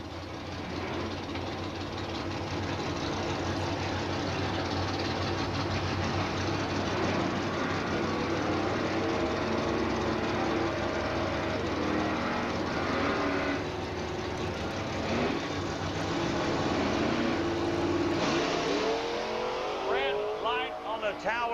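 Drag racing engine of a Chevrolet Nova at Jackson Dragway in 1994, a loud, steady roar that runs the whole time under an announcer's continuous commentary.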